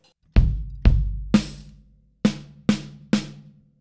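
A gospel-style drum fill on kick, snare and hi-hat: six sharp strikes in two quick clusters with a short pause between, close, punchy and ringing out, with no voices.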